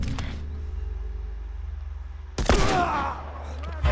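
Gunfire in The Last of Us Remastered comes as a single sharp, loud shot partway through, its echo ringing and decaying behind a low engine-like drone, with a player talking nearby.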